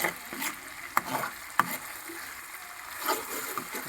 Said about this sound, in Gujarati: આપણે એકવાર ગ્રેવીને હલાવી નાખી